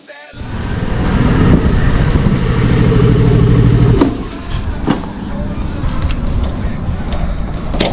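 A small Honda Navi motorbike's throttle is rolled on for a close, loud, buzzing rev that holds for several seconds. It then cuts back to a rougher, lower idle.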